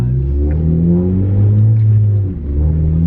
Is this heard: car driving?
yes